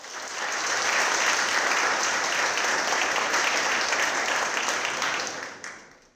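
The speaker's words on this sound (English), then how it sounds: "Let's have another round of applause for Peter." An audience at an insurance industry innovation summit breaks into sustained applause, steady dense clapping that swells in within the first half second, holds evenly for about five seconds and then fades out.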